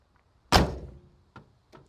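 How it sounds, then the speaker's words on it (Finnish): A Moskvitsh 407 car door shuts with one solid, close thunk, followed by two fainter knocks from the latch or a second door settling, with no talk over it. "Ovet menee nätisti kiinni."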